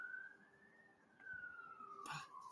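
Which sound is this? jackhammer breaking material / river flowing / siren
siren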